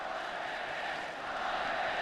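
College football crowd at Camp Randall Stadium in Wisconsin, a steady roar of many voices spread across the stands, continuous and fairly distant.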